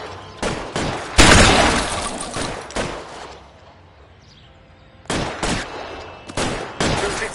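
Gunfire in the video game L.A. Noire, sharp bursts of rapid shots in clusters near and loud, with a quiet gap of a couple of seconds before more volleys resume.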